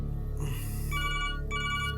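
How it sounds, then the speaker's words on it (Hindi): A telephone rings steadily in a room, a repeating electronic ringtone sounding in two bursts over a constant low hum, with no talk. "फोन उठाओ।"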